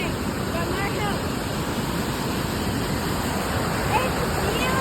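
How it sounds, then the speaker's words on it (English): Smokey Hollow Waterfall in Waterdown, Ontario roars loudly and steadily, a dense rushing wash of falling water that fills the whole stretch without a break. "the water is so loud. It's crazy loud."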